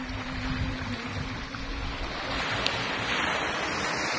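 Sea waves wash continuously at a beach on Samal Island, a broad steady rush of surf with wind noise buffeting the microphone throughout.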